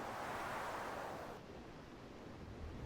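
Waterfall in a canyon area of ARK: Survival Evolved, a broad steady rushing wash of water that softens and dulls partway through, continuous with no voices.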